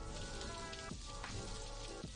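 Video game rain falls as a dense, steady hiss of drops that is constant and fairly loud throughout, with no voices.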